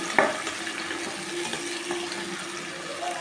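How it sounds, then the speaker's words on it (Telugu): Onions and green chillies fry in a pan with oil, giving a continuous crackling sizzle. A short sharp clatter comes at the very start, then the frying noise carries on evenly with no talk over it. "ఉల్లిపాయలు పచ్చిమిరపాయలు అవి సన్నగా వేయించాలి"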